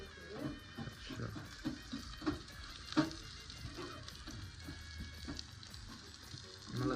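Garlic and spices sizzle and crackle in hot oil for a tadka, with stirring clinks and scrapes in a home kitchen, faint and close, with no talk over the frying.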